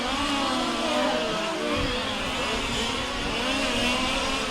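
Large-scale RC race cars howl past at close range during a world championship finals race, their engines loud and continuous with rising and falling pitch as two cars run nose to tail through a chicane.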